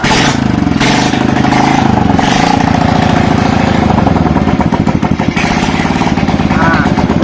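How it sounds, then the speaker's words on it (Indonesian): A motorcycle converted from fuel injection to a carburetor, running with no exhaust fitted, is started and settles into a loud, close, raw idle with a rapid chattering pulse, while someone talks over it. "sekarang kita akan melakukan penyalaan pada motornya"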